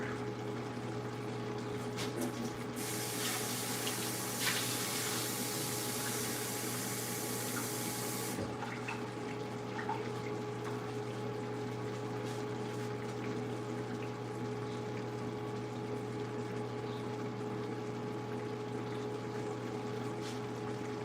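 Tap water runs in a strong rushing burst for about five seconds to fill a dog's water bowl, then stops, leaving a steady low household hum.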